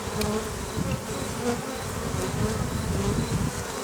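A dense, continuous buzz of many bees in a full log hive, close by, droning steadily with no voices.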